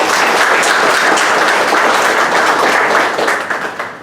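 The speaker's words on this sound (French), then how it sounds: "on l'applaudit vraiment très très fort" Audience at a book launch for author Jean-Marie's "Tablisman" in Mauritius gives a loud, sustained round of applause, dense clapping filling the room for about four seconds before starting to thin out at the end.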